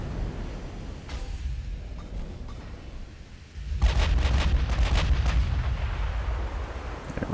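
Secondary guns of a warship firing in the naval battle game Ultimate Admiral: Dreadnoughts: low rumbling booms under a steady din, with a louder burst of rapid sharp reports midway that keeps rolling to the end.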